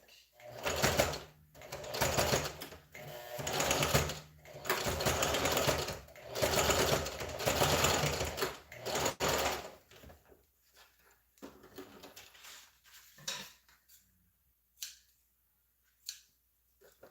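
A sewing machine stitches a front twist headband in several rapid whirring bursts separated by short pauses, then gives way to quieter handling clicks and snips near the end.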